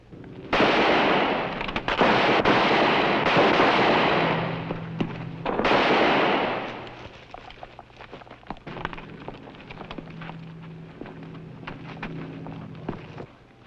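Gunfire in a western TV episode: two long bursts of loud, crackling blasts, one near the start and one in the middle, followed by scattered faint pops under quieter low background sound.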